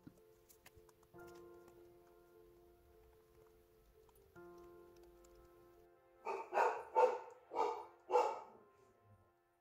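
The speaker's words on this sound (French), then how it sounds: "mais Pixel, le chien de garde, me signale qu'il y a un truc dehors" A guard dog barks outdoors in four loud, evenly spaced barks near the end, after quiet background sounds with a low steady tone and faint taps.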